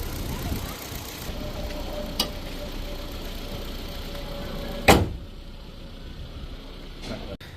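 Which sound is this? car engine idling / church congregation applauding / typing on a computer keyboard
car engine idling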